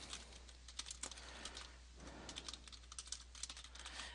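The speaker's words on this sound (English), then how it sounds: "I'm going to type her a note saying that here's my homework assignment" Fingers type a short note on a computer keyboard, a steady run of light, quick key clicks at close range with no voices.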